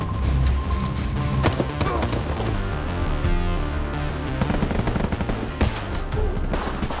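Rapid bursts of gunfire fill a film shootout at a house, loud and sustained, with dense cracks and volleys layered over a busy score and effects mix throughout.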